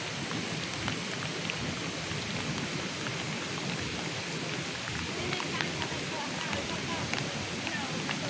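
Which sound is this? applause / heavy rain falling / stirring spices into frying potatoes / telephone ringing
heavy rain falling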